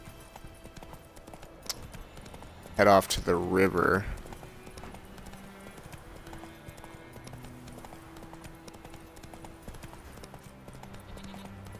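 Horse hooves clip-clop at a gallop in a video game, a brief loud burst of hoofbeats around the middle with steady game music and ambience under it, while a person talks over the scene.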